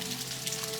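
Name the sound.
rain falling on a rainy morning in Door County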